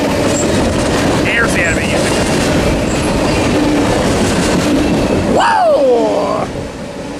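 A long freight train rolls past nearby in Fullerton, Long Beach area, with steady rumbling wheels and clickety-clack over rail joints; someone speaks briefly near the end as the last cars go by.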